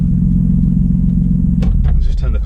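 A Toyota MKIV Supra engine idles as a steady, loud low rumble for about a second and a half, then cuts off, leaving a few brief knocks and rattles as it settles.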